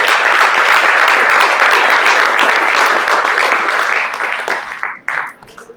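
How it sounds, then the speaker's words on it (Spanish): A church congregation claps loudly and steadily after a closing blessing, a thick wash of applause that thins and trails off into scattered claps near the end. "Denle fuerte el aplauso."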